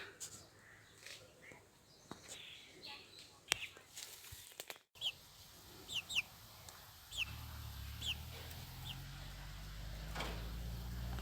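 Faint high chirps from young chicks, repeated in short bursts over low rustling and quiet background noise, with a hum rising near the end.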